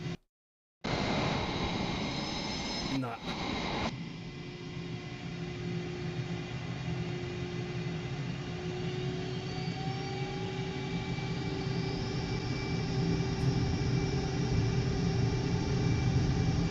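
A simulated light aircraft engine roars steadily and loudly for the whole stretch during a straight-out takeoff from runway 26 in Flight Simulator 2024, cutting in abruptly after a brief silence and holding an even drone.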